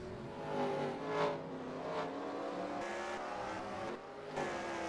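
Race cars lap a short oval during qualifying at the 2017 NRLOA Santa Claus 100, engines roaring steadily at a distance with rising and falling revs, loud and continuous, no talk.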